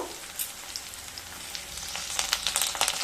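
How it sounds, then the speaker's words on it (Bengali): Garlic and onion fry in a pan for a masoor dal with kohlrabi. The sizzle is soft and crackling and grows a little busier toward the end, with no talk. "রসুন আর পেঁয়াজ খুব ভালো মতো ভেজে নেব"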